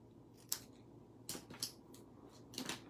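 Scissors snip through card stock for a handmade Christmas card in a few quiet, separate crisp cuts, some in quick pairs, with soft handling noise between them.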